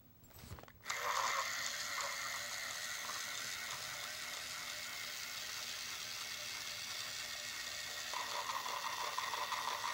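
A Conair Quick Wrap hair tool runs steadily after a brief start, wrapping thread around a loc extension with a continuous whirring, ratcheting mechanical drone close by and a slight lift near the end.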